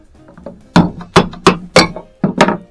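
A small hammer taps an electric motor's metal cover six times in an uneven rhythm, each strike a sharp, ringing clink, close and loud.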